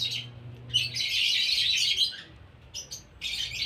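Handfed pet parrots, including green and powder-blue birds, chirping and tweeting in bursts of bright, high calls, close and fairly loud, with short pauses between flurries.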